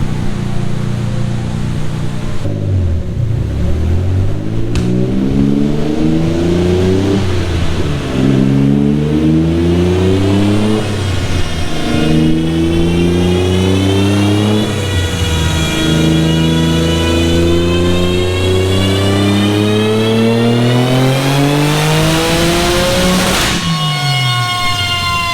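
Turbocharged Nissan 300ZX making over 900 wheel horsepower, run on a dyno at 25 PSI boost: the engine revs up in repeated rising pulls through the gears, loud and close, climbing to a high-pitched wail before cutting off.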